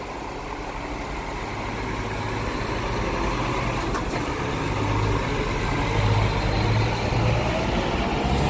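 Scania K410 night express bus of JRG pulling out of Terminal Batoh in Banda Aceh, its heavy diesel rumbling low and steady, growing slightly louder as it moves off.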